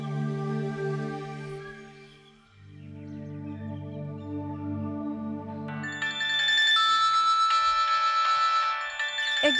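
A mobile phone rings repeatedly with a melodic ringtone, fairly loud and close, the tune shifting to a brighter, denser pattern partway through as the calls keep coming.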